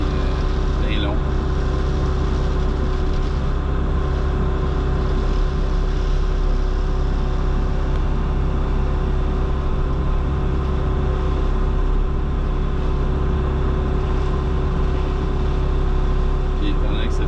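An Osma hydraulic mulcher shredding hardwood brush while clearing ditches, a loud, constant engine drone with a heavy low hum and steady whine, running without a break, with someone talking faintly under it.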